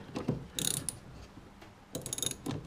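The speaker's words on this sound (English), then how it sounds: "Let's get a 30mm socket." A 30mm socket ratchet clicks in quick rapid bursts while loosening battery clamps on a 1972 Triumph Dolomite, two distinct close clattering runs of pawl clicks separated by a quieter pause.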